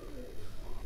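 A tournament racing pigeon, known as the ringed one, coos softly while held in a man's hands. Low, murmuring coos sound close, with a steady rumble of background noise.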